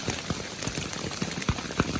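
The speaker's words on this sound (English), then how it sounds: "Nothing like a little hailstorm for the evening." Hail pelts down during an evening storm on the Appalachian Trail, a dense continuous patter of small impacts with scattered sharper hits standing out close by.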